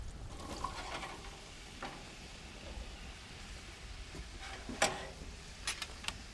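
Vegetables sautéing in a pan of olive oil and butter, a soft steady sizzle with scattered crackles and a few sharp pops near the end, fairly quiet and without talk.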